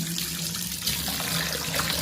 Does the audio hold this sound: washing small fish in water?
yes